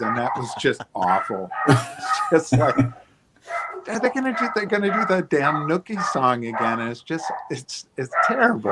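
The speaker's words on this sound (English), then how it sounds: "my dogs are going nuts. So sorry about that." Dogs bark in a few short bursts in the background while someone talks steadily over them in a live interview.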